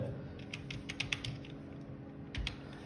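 Quick, uneven keystrokes on a computer keyboard as a short word is entered into the Windows Run command, light clicks in a few small bursts over a steady low background hum, no talking.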